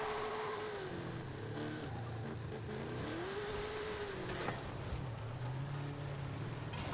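Car engine in Forza Horizon 5 drifting through sharp turns on a controller, a steady mid-pitched drone whose pitch rises and falls with throttle over continuous tyre and road noise, loud and constant throughout.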